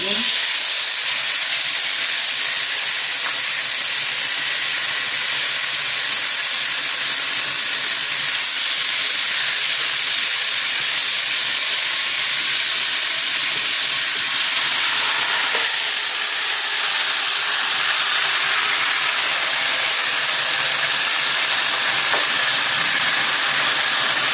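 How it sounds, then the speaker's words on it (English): A loud, continuous hiss fills the kitchen as raw turkey pieces go into a hot cooking pot for a yellow rice stew, a steady bright sizzle with no pauses. "I'm gonna put my turkey in."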